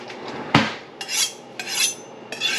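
A kitchen knife drawn along a honing steel before carving a pumpkin jack-o'-lantern: a sharp metallic clink, then three slow, bright scraping strokes, close and clear with no talking.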